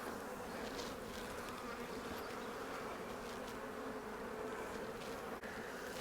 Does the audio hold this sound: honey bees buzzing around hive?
yes